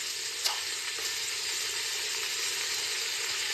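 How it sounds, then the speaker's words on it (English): Diced onions and vegetables sweating in a salted pot for chicken tortellini soup, giving a steady, close, even sizzle with one brief clink near the start and no talking. "we're just sweating the vegetables and stuff like that so they come translucent"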